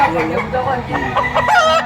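A rooster crows once, loud and close, a drawn-out warbling call lasting about two seconds amid faint background murmur.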